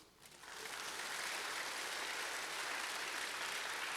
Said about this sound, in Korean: 박수! 아담 위에서 박수!